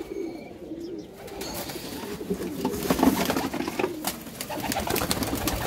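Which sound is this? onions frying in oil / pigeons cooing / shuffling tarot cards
pigeons cooing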